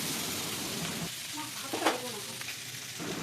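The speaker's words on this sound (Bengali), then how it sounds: "ভালো করে নাড়াচাড়া করতে হবে যাতে সবজিগুলোর মধ্যে মশলাটা ভালো করে মেশে" Vegetables sizzling in a hot pan as they are stirred with a ground spice paste, a steady frying hiss with a brief louder scrape of stirring partway through.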